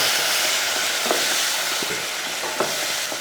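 Steady hissing sizzle of ground coconut paste frying in a tempering of fenugreek, chilli, curry leaves and asafoetida, loud and close, with a few soft scrapes of stirring breaking through the continuous crackle.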